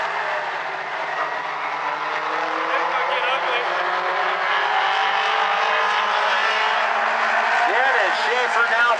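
Mini stock race cars roaring around South Sound Speedway in a continuous dense engine wash, loud and blended, with a race announcer talking over it the whole time.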